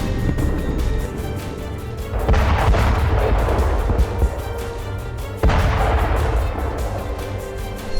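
Artillery shelling in the Russia-Ukraine war: two heavy, rumbling blasts land a few seconds apart, each a loud broadband boom that decays slowly over a continuous low background roar.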